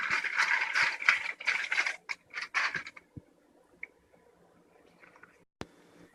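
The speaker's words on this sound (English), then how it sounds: "So we're going to add these in the order of cake mix, milk, oil, and eggs." Milk, oil and eggs are added to cupcake mix in a bowl, giving several seconds of wet pouring and squishing, then a few faint drips, taps and scrapes before near quiet.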